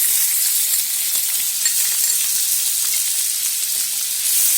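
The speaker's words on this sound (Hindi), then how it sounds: "पैन में 2 बड़े चम्मच तेल गरम कर लिया है। अब उसमें बारीक कटा हुआ प्याज डालेंगे।" Finely chopped onion frying in two tablespoons of hot oil in a pan, a dense, loud, hissing sizzle that holds steady with faint crackles, no talking.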